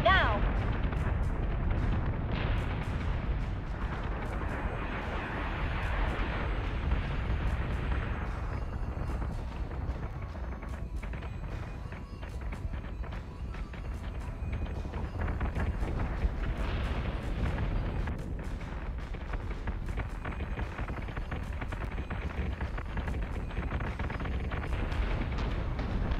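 Ship weapons of the Battlestar Minerva firing on a target, a dense, continuous barrage of heavy booming blasts that rolls on loudly for the whole stretch with no break.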